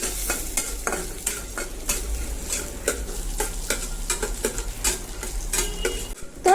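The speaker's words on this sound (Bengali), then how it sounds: "বাদাম আর কিশমিশটা একটু ভেজে নিব, একদমই অল্প আছে কিন্তু ভেজে নিব।" Almonds and raisins fry in a pan with a soft sizzle, and a utensil stirs and scrapes against the metal in a quick, irregular rhythm throughout.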